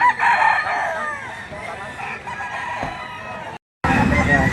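A bullstag rooster crows loudly and close at a Lipa City poultry market in Batangas, one long drawn-out crow over busy market noise, followed by a brief silence and a burst of crowd bustle.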